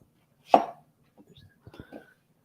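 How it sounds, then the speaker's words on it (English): A knife cuts through onions with one firm, sharp chop followed by a few lighter, quieter taps against the board, close and isolated with no talking. "First, I'm going to just cut up my onions."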